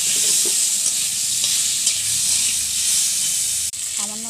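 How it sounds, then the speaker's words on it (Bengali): Raw and ripe mango pieces stirred in a hot pan with tempering spices for mango chutney, loud continuous sizzling with scraping strokes of a spatula, ending with a brief clatter. "এরপরে কেটে রাখা কাঁচা পাকা আম দিয়ে দিচ্ছি। ভালো করে নেড়ে নিচ্ছি।"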